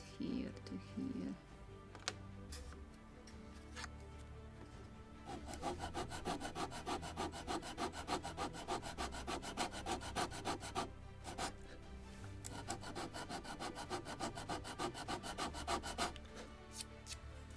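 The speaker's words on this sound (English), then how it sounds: "just like sanding right here" A wooden deck on a 1776 gunboat Philadelphia model ship kit being sanded by hand, a close, rapid scratchy rubbing in steady back-and-forth strokes, with brief pauses and someone speaking early on.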